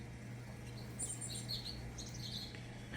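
Backyard birds chirp and tweet around treetops, a fence and a bird bath after heavy rain, with several thin high calls scattered over a steady low hum, fairly faint and moderately distant.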